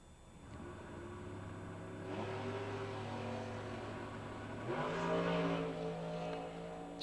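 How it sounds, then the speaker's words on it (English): A drag racing car at a dragway bracket race launches off the line as the trans brake releases, its engine holding a steady loud drone, then climbing sharply in pitch as it pulls away, heard from a distance with no talking. "Jagger will let go of the trans brake that assists the driver in launching the vehicle"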